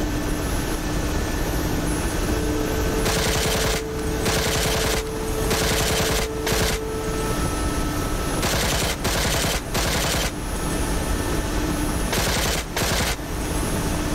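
A side-mounted machine gun on a helicopter rattles in repeated bursts in the DCS flight game, rapid gunfire cutting in and out over a steady rotor and engine drone.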